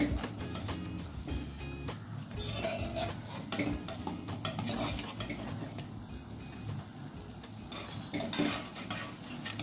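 Gourd leaf fritters fry in a pan with a continuous crackling sizzle, joined by frequent scraping and clattering of a utensil against the pan, moderately loud and close.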